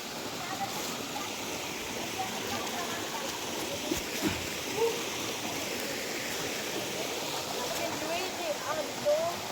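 Mountain water pouring down a waterfall in Mindanao, a steady broadband rush that stays constant throughout, with voices talking faintly over it.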